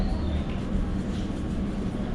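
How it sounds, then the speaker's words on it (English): A London Underground District Line train approaches a platform, a dense, loud rumble of wheels and motors that rolls steadily throughout. "District Line, the train now approaching is to Barking."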